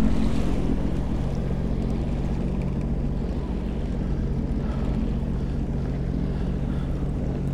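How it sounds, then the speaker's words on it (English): A jet ski runs on Lake Erie, giving a steady, loud engine drone mixed with water rush and wind noise buffeting the microphone, with no voices. "So we're just getting the skis in the water."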